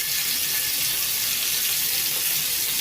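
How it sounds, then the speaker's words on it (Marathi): Paneer pieces shallow-fry in oil on a hot tava, giving a steady, even sizzling hiss that holds throughout, close and moderately loud with no talking. "त्यात आपण पनीरचे तुकडे थोडेसे शालो फ्राय करून घेऊ."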